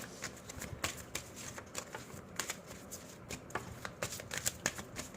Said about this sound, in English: We'll pull out some romance angel cards for group 3.